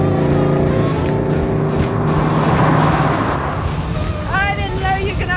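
Classic Chevrolet Camaro engine accelerating hard at a car show, a loud continuous roar rising in pitch with tire noise near the end, with a voice speaking over it.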